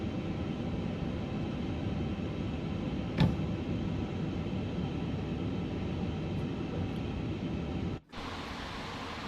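A steady, loud broadband roar of an approaching plane in a Microsoft Flight Simulator 2024 session, continuous for most of the stretch with a brief click, then cutting out sharply near the end.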